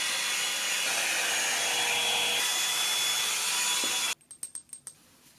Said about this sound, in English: Okay, I blow dried my hair.